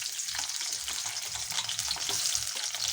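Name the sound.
onions frying in a pan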